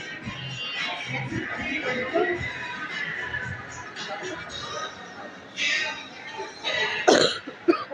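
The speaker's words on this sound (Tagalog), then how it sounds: "Oh, ubo ako." A few coughs break out near the end, loud and close, after murmured talk and shuffling in a quiet room.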